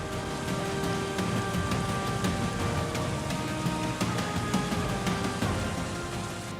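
Heavy monsoon rain pours down steadily in a dense, continuous hiss, with sharp drips and splashes scattered through it and a faint low rumble underneath during flooding and landslides.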